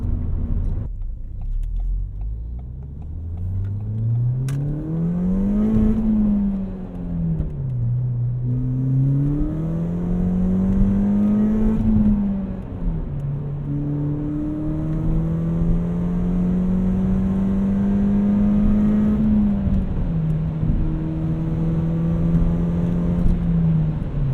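A 240,000-mile Ford Fiesta ST with an aftermarket Cobb downpipe drones as the engine is revved repeatedly, its tone climbing and dropping in smooth waves over a steady rumble.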